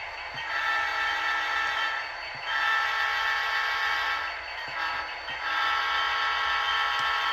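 Model train locomotive running around a layout track, a steady close rolling rumble that swells and fades in waves as it circles, with faint periodic clicks from the rail joints.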